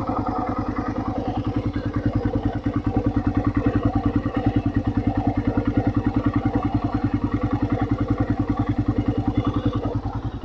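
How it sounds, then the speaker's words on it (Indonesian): A 2015 Suzuki Satria FU facelift motorcycle, its engine still factory-sealed, runs steadily at idle with the microphone held close to the engine. It gives a rapid, even, clattering thrum with no talk over it. "Nah, ini saya dekatkan ke mesinnya. Kalian dengarkan sendiri untuk suara mesinnya."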